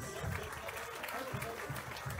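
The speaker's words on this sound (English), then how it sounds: "A round of applause again, please." An auditorium audience at a university fest claps steadily throughout, a dense wash of applause with voices mixed in.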